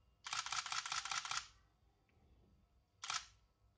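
A Nikon D5300 DSLR fires a rapid burst of about a dozen shutter clicks close to the mic, then after a pause a short second burst of a few more, with quiet room tone between.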